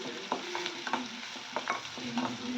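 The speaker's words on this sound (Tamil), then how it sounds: "வெங்காயம் நல்லா பொன்னிறமாக வர வரைக்கும் நல்லா வதக்கிக்கோங்க." Chopped onions sautéing in oil give a soft continuous sizzle, broken by several close scraping strokes of a spoon stirring the pan at an uneven pace. There is no talking.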